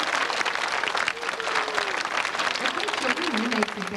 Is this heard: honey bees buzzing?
no